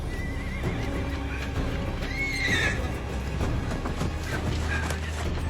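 Horses neigh and whinny over steady clip-clopping hooves in an outdoor setting, a loud whinny standing out midway over constant low rumbling background noise.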